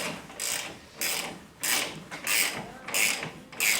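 A ratchet cranks in rapid repeated bursts, tightening the radius rod bolts on a Polaris RS1 side-by-side ATV; about six crisp rhythmic clicking runs sound close and fairly loud.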